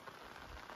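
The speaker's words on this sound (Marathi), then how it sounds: "पावसाचं काय भरपूरच आहे." Steady rain falls outdoors on a village dairy farm during a wet monsoon spell, a dense even patter on surfaces with no voices.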